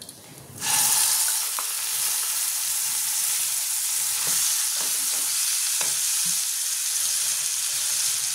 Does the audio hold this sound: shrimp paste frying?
yes